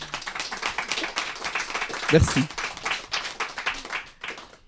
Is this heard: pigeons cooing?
no